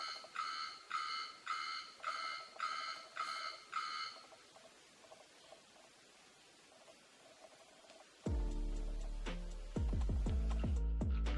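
A morning alarm clock beeps in a run of rapid pulsed bursts for about four seconds, then stops; a quiet hiss follows before loud, low clattering and thumping noises take over at the end.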